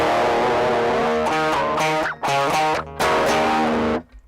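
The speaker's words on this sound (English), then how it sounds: "That's where these two effects come in, the equalizer and the classic distortion." Electric guitar played through a pedalboard with an equalizer and classic distortion, thick sustained distorted chords struck in several bursts with brief gaps, loud and close, ending in a short ringing fade.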